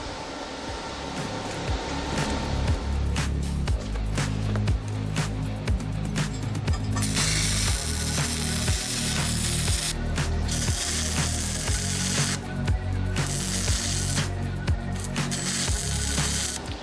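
Welding sheet metal for a tabletop barbecue, with repeated crackling sizzles of tack welds starting and stopping in bursts, loud and close, over a steady background hum.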